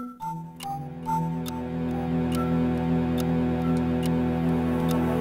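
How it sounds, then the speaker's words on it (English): Dungeon theme music from Pokémon Mystery Dungeon 2 with a steady clock-like ticking over sustained low strings and higher string lines, loud and continuous throughout. "the urgency from the ticking clock"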